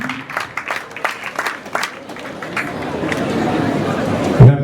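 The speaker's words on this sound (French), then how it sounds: "merci beaucoup, on l'applaudit" Audience at a school complex's inauguration of a modern industrial sewing workshop breaks into scattered clapping, the sharp claps giving way to a steadier wash of applause and crowd murmur, with a brief louder knock near the end.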